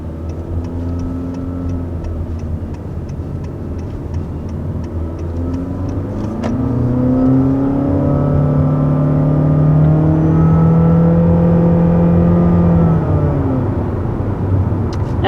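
A 2021 Honda Insight hybrid with a 1.5-liter four-cylinder engine accelerating as the engine fires up, a steady low drone that rises and swells in pitch partway through, with ticking clicks early on and no talk.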